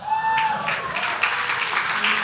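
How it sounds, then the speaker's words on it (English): Applause from people at a city council meeting, starting after a brief voice and continuing as a steady patter of clapping at moderate volume to the end. "Round of applause for that"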